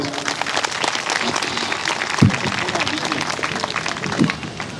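Audience applause at a live Shiv Mahapuran religious gathering in Suhela, a broad steady wash of clapping from a large crowd throughout, with a couple of brief louder bumps partway through.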